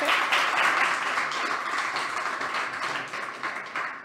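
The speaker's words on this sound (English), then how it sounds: "big applause for our team Fabrics" An audience at a startup demo day gives a team a warm round of applause, a dense wash of clapping that stays full and even before easing slightly toward the end.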